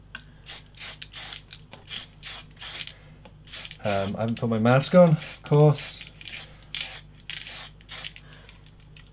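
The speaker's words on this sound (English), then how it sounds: "Spray away from the edge." Short hissing bursts of spray paint from an aerosol can spraying over a stencil, repeated in quick pulses, with someone talking nearby partway through.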